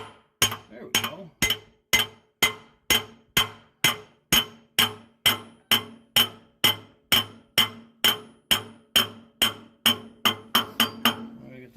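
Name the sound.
hammering on transmission parts with a bigger hammer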